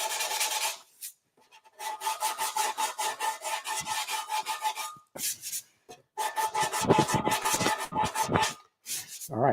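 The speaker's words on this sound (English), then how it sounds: "I wanted to get this real firm sanding block, nice and solid." A firm, solid sanding block rubs back and forth on wood in quick rhythmic strokes, a close, raspy scraping repeated in bursts with brief pauses between passes.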